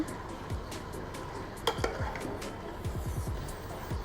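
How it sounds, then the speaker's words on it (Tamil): Duck meat coated in masala is stirred in a pan, with soft scraping and clinking of a spoon against metal, repeated in quick strokes, fairly quiet and close. "மசாலாவோட கறி நல்லா கலந்து வர அளவுக்கு நல்லா கலந்து விட்டுக்கோங்க நல்லா அந்த மாதிரி கிளறி விடுங்க"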